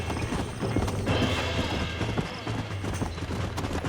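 Horse hooves galloping across open ground in the Western game Red Dead Redemption, a rapid clip-clop rhythm with rattling gear and a brief whinny, mixed under other game sounds.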